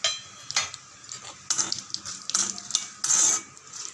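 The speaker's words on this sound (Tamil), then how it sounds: "நல்லா பொன்னிறமாக வறுத்துடுங்க" Cashews frying in a pan for milagu pongal, with soft sizzling under repeated metal clinks and scrapes of a spoon stirring against the pan, coming in short bursts.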